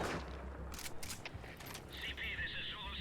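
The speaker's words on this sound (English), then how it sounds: "Gunfire. No fix on the position." Gunfire in the video game Death Stranding, a quick burst of several sharp shots early on, followed by a steady mechanical tone, with a voice talking over it.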